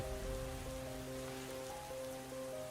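Steady cartoon rain falls as a continuous even hiss, with a faint sustained tonal hum beneath it and no voices.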